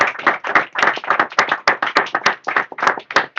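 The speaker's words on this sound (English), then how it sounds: "we conclude by giving a round of applause to our wonderful panelists" A small audience at a report launch claps for the panelists, a close, sparse round of distinct hand claps in an uneven quick rhythm, fairly loud and alone without speech.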